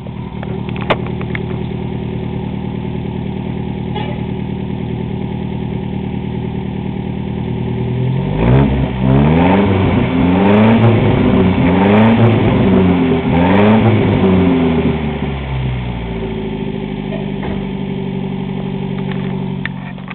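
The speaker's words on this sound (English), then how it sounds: "let you hear it running out of the single exhaust." A 1962 Nash Metropolitan Convertible's engine idles through its single exhaust, then revs up several times in quick surges around the middle before settling back to a steady idle, loud and close.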